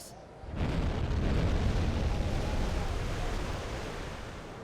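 Depth charges erupt underwater in the Silent Hunter 5 submarine game, a deep rumbling boom that swells after a quiet opening and rolls on as a long, heavy wash of churning water, slowly fading.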